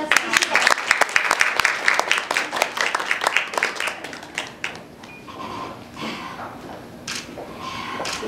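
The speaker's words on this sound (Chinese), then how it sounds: "让我们再次掌声恭喜欢迎" Guests at an engagement ceremony in a hotel banquet hall clap to welcome the bride back in for the ring exchange, dense and loud at first, then thinning to scattered claps as a voice begins speaking over them.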